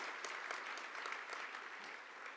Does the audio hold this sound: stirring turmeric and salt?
no